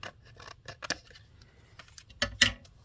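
Scissors trimming a card during papercrafting, several quick close snips and paper rustles building to two crisp, louder cuts near the end, with no talk.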